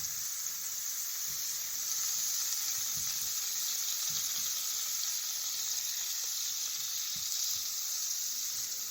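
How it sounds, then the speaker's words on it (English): About two tablespoons of butter melting in a hot pan, a steady even sizzle and hiss throughout with faint occasional taps, close and continuous with no talk. "So we're gonna melt about 2 tablespoons of butter"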